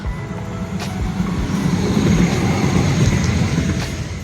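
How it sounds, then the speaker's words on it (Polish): A number 17 tram near Frankfurt rumbles past with a steady low roar that builds and lingers, with faint metallic clicks as it moves along the track. "O, jedzie tramwaj."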